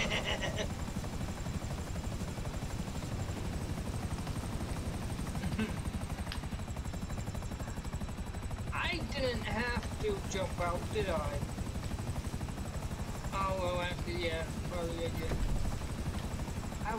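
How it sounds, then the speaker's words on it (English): A helicopter in Grand Theft Auto V whirs with a steady rotor chop throughout, loud and close, while voices talk over it in bursts. "Just get in the helicopter."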